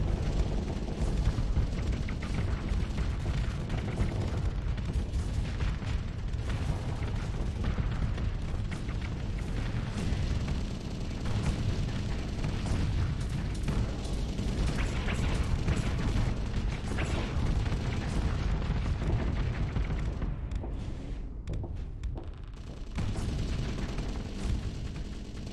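Squall weapons in Starsector fire in a dense, continuous barrage, a loud rumbling mass of launches and impacts with no clear gaps, tapering slightly near the end.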